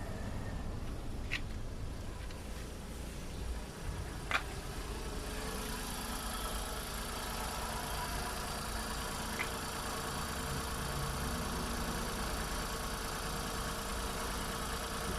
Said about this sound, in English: Alright, so I'm gonna show you guys how the engine idles.